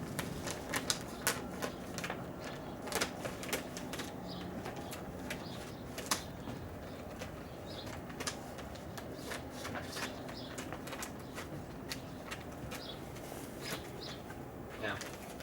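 Plastic film being cut away from the top of a tomato grow bag, giving a run of crisp ticking snips and crinkles. The clicks are irregular and close, held over a low steady background.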